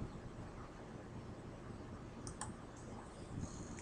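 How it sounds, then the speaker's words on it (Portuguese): A computer mouse clicks while running simulation software: two quick, close clicks, then a fainter click shortly after, all over a steady low room hum. "clique em Run"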